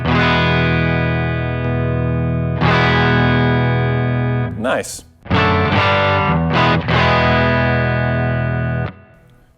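An electric guitar through a Fuel Injector drive pedal in natural mode with the drive at noon, sustained distorted chords ringing loudly, with a brief pause and a short spoken word in the middle.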